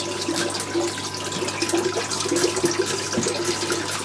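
An aquarium filter runs in a tank, circulating the water with a steady, loud, continuous splashing and trickling that carries on unbroken, with no talk.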